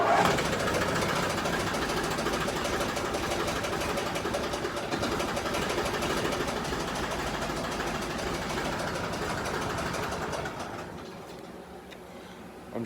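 An Argo amphibious vehicle's engine runs steadily just after starting, a continuous busy mechanical drone with rapid ticking, loud and close, settling slightly toward the end; the engine has long run rich and may be carboned up.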